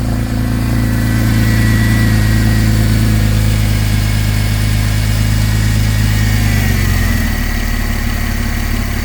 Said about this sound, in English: Okay, I just started the car up.